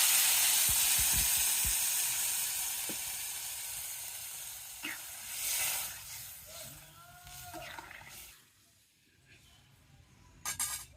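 Vegetables sautéing in a pan for a dried-fish curry, a loud hissing sizzle that slowly fades, with a few utensil knocks and some sloshing near the end.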